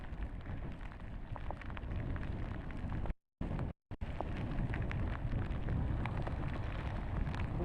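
Hurricane Beryl's roaring wind and driving rain, with sustained winds around 31 mph, make a dense, steady broadband rush, interrupted by a brief dropout of near silence partway through.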